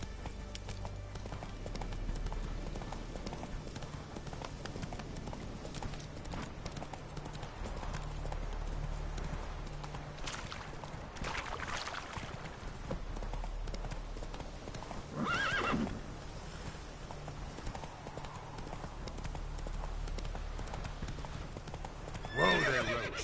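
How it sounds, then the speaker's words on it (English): Horse hooves clip-clop in a steady galloping rhythm in The Witcher 3 game, with several loud whinnies breaking in along the way, a quiet voice occasionally audible under the hoofbeats. "Whoa there, Roach"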